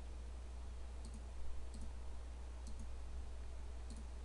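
Faint mouse clicks in a graffiti text tutorial, a handful of soft, sharp ticks spaced about a second apart over a steady low hum.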